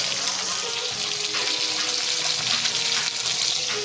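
A fish head fries slowly in a pan with a continuous broadband hiss of hot oil, even and fairly loud throughout, a watery crackle with no clear breaks.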